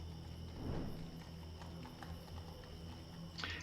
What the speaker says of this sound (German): Ich höre ein Pferd durch die Gassen traben.